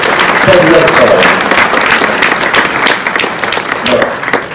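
An audience at an art exhibition opening and prize ceremony applauding loudly, dense clapping that stays strong and then slowly thins, with a voice speaking under it.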